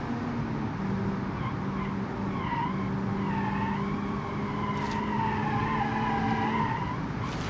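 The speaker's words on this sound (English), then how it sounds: "And across the line in a big slide, and no ABS braking" A mid-engine rear-drive car in BeamNG.Drive slides sideways with no ABS braking, tires squealing in long wavering howls over a droning engine, close and continuous.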